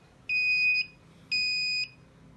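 A homemade RFID door lock gives two separate electronic beeps after a card is scanned, each about half a second long, clear, close and loud against a quiet room.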